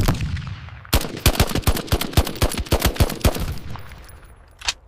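A gunfire sound effect for a military battle scene plays as a rapid burst of about a dozen sharp, loud shots. A lone echoing shot follows after a short pause, with no speech.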